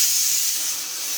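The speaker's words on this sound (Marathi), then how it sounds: "ते कुकरची शिट्टी बघ" Steady, loud hiss of steam escaping from a pressure cooker whistle in a home kitchen, continuous throughout and heard alone without talk.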